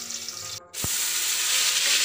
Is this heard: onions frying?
yes